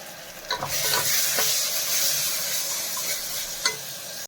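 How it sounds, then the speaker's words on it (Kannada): A paste of tomato, garlic and ginger fries with onions in a pan, giving a steady close sizzle with a few spoon scrapes and taps as it is stirred. "ಟೊಮೆಟೊ ಬೆಳ್ಳುಳ್ಳಿ ಶುಂಠಿ ಎಲ್ಲ ಅದನ್ನು ಹಾಕ್ಕೊಂಡು ಹಸಿ ವಾಸನೆ ಹೋಗೋ ತನಕ ಫ್ರೈ ಮಾಡ್ಕೋಬೇಕು"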